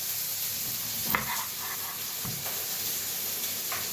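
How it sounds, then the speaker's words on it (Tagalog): Galunggong fish browning in a hot pan, a steady close sizzle and hiss running throughout with occasional stirring scrapes and no talking. "Brownahin natin yung isda."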